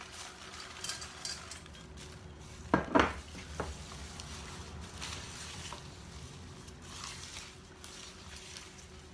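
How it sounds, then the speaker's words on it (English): Popcorn is folded into a sticky chewy granola bar mixture, making quiet scraping and stirring with one brief clatter of utensil against bowl, faint and close. "Now I'm gonna fold in my popcorn."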